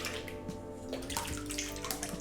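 Cream poured into a chilled ice bowl, splashing and gurgling in a continuous close, faint liquid stream with no voices.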